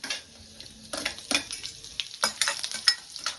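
Onions, carrot, cinnamon, chilli and curry leaves frying in a pan with mustard seeds, soft sizzling broken by repeated scraping stirs and light clinks, close and fairly quiet.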